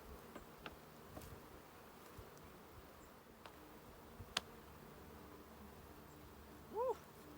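Honey bees buzz faintly around full hive frames being swapped out, a steady low insect hum with scattered ticks and small knocks and a brief louder buzz near the end, with no talk.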